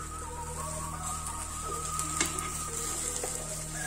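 An omelette sizzles in an electric frying pan with a ceramic coating, a steady close hiss of frying with faint crackles and a soft clink partway through; no one speaks.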